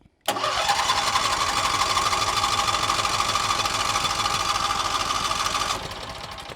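A portable generator on choke is started and roars straight into a loud, steady mid-pitched running drone, which drops slightly in level near the end.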